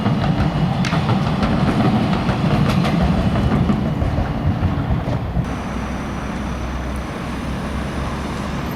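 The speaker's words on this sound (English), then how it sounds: "here comes another tram, green and yellow tram" A green and yellow tram rumbles past nearby with a low rolling drone and faint rail squeaks, fading into steady street noise.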